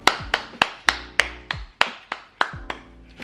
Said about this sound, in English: That was the applause for Gabbie.